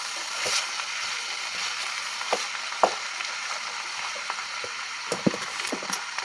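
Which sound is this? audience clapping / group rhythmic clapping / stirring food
stirring food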